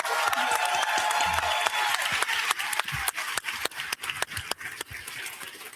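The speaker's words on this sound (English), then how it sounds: "So please give Renee a round of applause." A crowd at a panel event applauds for a guest, a dense wash of clapping that thins into scattered individual claps as it fades, with a couple of low thumps in the room.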